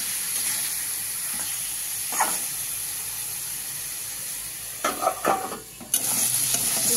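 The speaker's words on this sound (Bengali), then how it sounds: "এবার আমি নেড়ে চেড়ে দিয়ে দেবো ঢাকা।" Steady sizzling of pumpkin with turmeric frying in a pan, with a few scraping stirs of a utensil near the middle and end.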